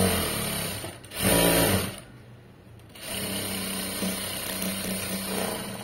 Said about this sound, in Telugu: మళ్ళీ ఇటు తిప్పేసుకుని ఇంకో స్టిచ్ వేయండి. తర్వాత ఎడ్జ్కి ఇంకో స్టిచ్.